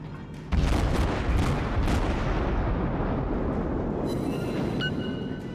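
Naval artillery salvo in the World of Warships video game, a sudden heavy boom that rolls into a long, loud rumbling decay, with faint high electronic tones near the end.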